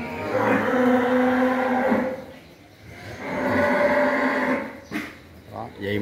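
Cows and calves on a Long An cattle breeding farm that supplies breeding stock, moo in long, loud, drawn-out calls one after another, with a quieter gap between them and brief knocks near the end.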